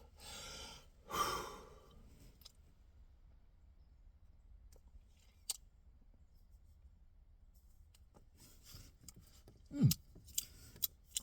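A cutter snips the tip of a Black Betty cigar: a single crisp clip near the start, then a quiet stretch with faint breathing and a few small clicks and taps.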